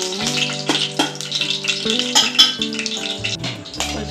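Ghee and oil sizzle and crackle in a heated pot for vegetable pulao, a close, lively frying hiss with bright pops and a few utensil clinks, no talking.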